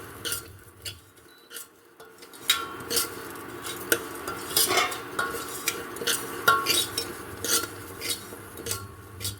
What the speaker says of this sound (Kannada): ಹೆಸರು ಬೇಳೆನ ತುಪ್ಪ ಹಾಕ್ಕೊಂಡು ಸ್ವಲ್ಪ ಘಮ ಘಮ ಅಂತ ವಾಸನೆ ಬರೋವರೆಗೂ ಹುರ್ಕೋತೀನಿ